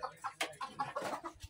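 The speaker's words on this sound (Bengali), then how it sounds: "মুরগি আছে অনেক।" Chickens clucking on a farm, a quick run of short, close, fairly quiet clucks in an uneven rhythm, with no one speaking.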